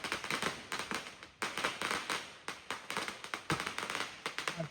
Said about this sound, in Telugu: చూడండి అక్కడ చాలా మంది బాంబులు, మిరపకాయ బాంబులు పేల్ చేసి ఉన్నారు